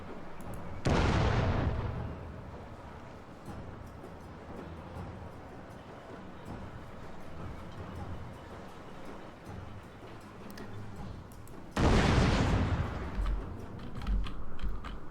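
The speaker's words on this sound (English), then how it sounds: "Let's go ahead and fire a volley." An artillery volley fires in the Total War: Shogun 2 Fall of the Samurai video game: two loud booming salvos about eleven seconds apart, each followed by a low rumbling tail and softer battlefield noise in between.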